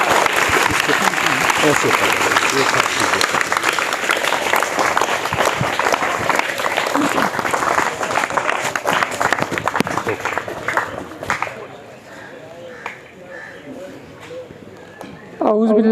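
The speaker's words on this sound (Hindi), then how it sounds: "तो तालियों की गूंज में" Audience applause fills a school gathering at Millat High School in Moramala, dense and loud for about eleven seconds before fading to scattered claps and a quieter room, with a voice briefly speaking over it.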